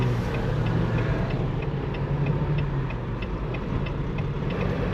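Cars passing on a road near a truck parked at a produce market in Toronto, a steady broad rumble of traffic with faint regular ticking over it, no talk.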